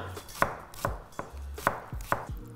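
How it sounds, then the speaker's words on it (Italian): A knife chops an onion on a cutting board in steady, evenly spaced crisp strikes, close up with no talking. "Prima cosa che faccio è affetto una cipolla. No, la trito, più che affettare la trito."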